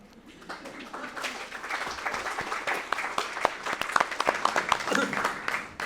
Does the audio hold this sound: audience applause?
yes